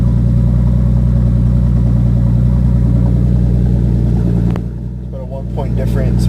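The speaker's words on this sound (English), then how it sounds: "Very smooth idle." Steady, smooth idle from the turbocharged L28ET engine in a 1970 Datsun 240Z, recorded close and loud. There is a brief dip in level near the end.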